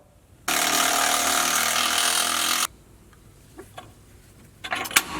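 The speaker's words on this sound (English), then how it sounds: "So I'm going to take my 18mm socket and get that out." A loud, steady burst of a pneumatic impact wrench with an 18mm socket removing a bolt under a Jeep JLU during a lift kit install lasts about two seconds, followed by a few faint clinks and light handling noises.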